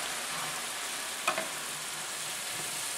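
Liquid poured into a hot glazed pan sizzles and fries steadily, a broad hissing wash with a faint stirring scrape partway through; no one talks.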